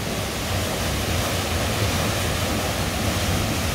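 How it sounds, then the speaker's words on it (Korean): Biryong Falls on Seoraksan, swollen after rain, roars as a loud, dense, steady rush of falling water heard up close, unbroken throughout with no voices. "기동폭포입니다."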